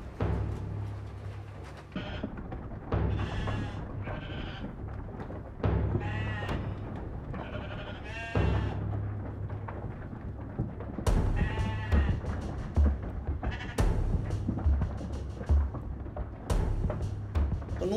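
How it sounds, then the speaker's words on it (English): Leader sheep bleat repeatedly, several wavering calls overlapping and spaced through the stretch, fairly close, with low rumbling background noise and occasional thumps. "leader sheep."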